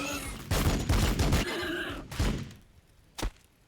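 Gunfire from the Warhammer 40,000: Battlesector strategy game as units gun down a xeno swarm: a dense burst of shots and thuds, loud and close, trailing off into a final single thump.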